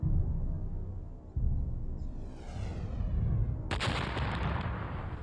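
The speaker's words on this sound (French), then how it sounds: "une nouvelle météorite géante s'écrase dans ce qui deviendra le golfe du Mexique" A deep rumbling roar builds, a whooshing sweep passes through, then a giant meteorite impact explosion bursts out and keeps thundering loudly to the end.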